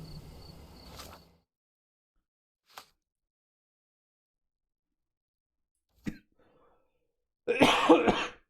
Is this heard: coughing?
yes